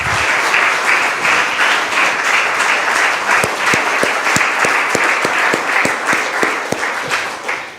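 A church congregation gives loud, sustained applause, a steady wash of many hands. Distinct rhythmic claps stand out through the second half.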